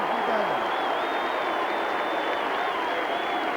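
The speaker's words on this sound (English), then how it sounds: "I think we should give him a big round of applause" Stadium crowd applause at the 1989 VFL Grand Final, Hawthorn versus Geelong: a broad, sustained roar of clapping and cheering filling the whole stretch at steady loudness, with a faint whistle-like tone riding over it.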